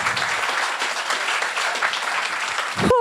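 A crowd at a Cape Town startup showcase applauds the top five startups with loud, dense, sustained clapping, and a voice cuts in at the very end.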